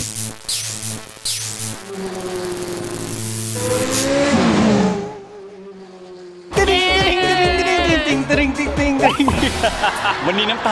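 A Lamborghini engine revs loudly nearby, rising in pitch, dropping to a lower idle, then roaring again with a sharp burst and sustained growl.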